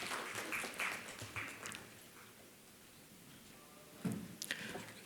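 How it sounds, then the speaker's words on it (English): Audience applause after a memento presentation at a chartered accountants' session on bank advance audits: faint, loose patter of clapping that thins out mid-clip, then picks up again briefly near the end. "A round of applause, please."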